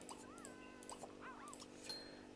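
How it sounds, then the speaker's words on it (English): A virtual puppy in The Sims 2 Apartment Life gives several faint, high whimpers and short whines, soft and scattered over a quiet background hum. "So when you're done helping the puppy"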